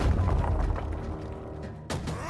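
Boss attack explosions in the vampire survival game V Rising, a heavy rumbling boom that fades out, then a sudden fresh burst near the end, no talk.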